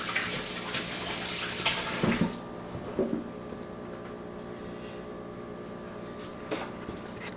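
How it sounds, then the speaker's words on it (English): Running tap water rinses hands in a home kitchen while pork chops are prepared, a steady close splash with brief louder bursts before it settles into a quieter continuous flow. "Rinse my hands off real quick"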